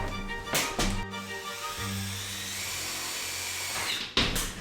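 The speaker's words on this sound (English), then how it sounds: "so Chris will be able to drill away" A power drill drives tech screws into metal stud framing during a marble bathroom renovation: close, whirring motor bursts at the start, then a longer steady run with a sharp stop near the end.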